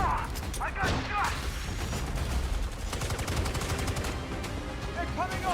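Rapid video game gunfire rattles in bursts of sharp shots and automatic fire, with clanks and impacts. Excited voices talk over it.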